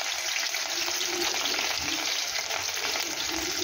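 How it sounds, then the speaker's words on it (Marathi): Green chillies fry in hot oil in a kadhai, giving a steady, dense sizzle that stays loud and even throughout, with no voices. "यामध्ये आपण काही मिरच्या तळून घेऊया"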